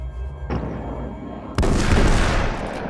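A sawed-off shotgun fires twice in Alan Wake's American Nightmare, two sharp booming blasts about a second apart, the second louder and trailing into a long rumbling decay, with no talking.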